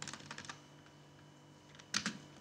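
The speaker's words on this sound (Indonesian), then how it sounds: "kita langsung ketik saja" Quiet keyboard typing: a short run of soft, quick key clicks, then a pause and two louder taps near the end, close and alone.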